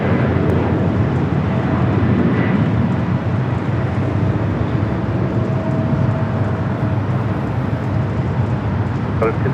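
A JetBlue airliner takes off from runway 24 left at LAX, a loud steady broadband roar that holds throughout, with radio voices talking over it.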